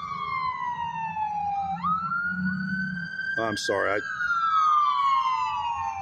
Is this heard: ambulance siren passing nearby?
yes